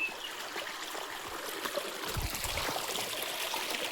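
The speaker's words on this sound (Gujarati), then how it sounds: "નહેર નાની નહેર છે." A small canal flowing steadily, with a continuous near trickle and gurgle of water and a brief low rumble partway through, no voices.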